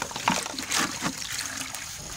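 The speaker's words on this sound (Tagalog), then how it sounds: "So, lagyan natin ng water." Water pours into a drinking bowl set out for stray cats in the UAE, a brief close splashing trickle with a few gurgles.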